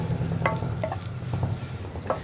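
Drumstick leaves being stirred in a pan over a low flame, with a steady soft sizzle and a few light scrapes of the spoon at intervals.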